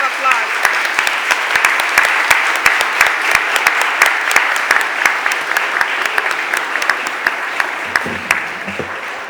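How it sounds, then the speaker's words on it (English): Sustained applause fills a Philadelphia City Council chamber as guests are honored, dense steady clapping from a sizable audience holding for about nine seconds and tapering near the end. "would you stand up and give them a round of applause?"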